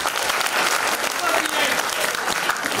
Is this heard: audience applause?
yes